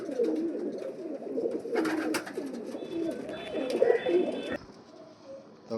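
Giribaz pigeons, a Kolkata fancier's flying breed, coo in close, repeated throaty rolls that overlap one another, loud and near, with a brief rustle midway and no talk.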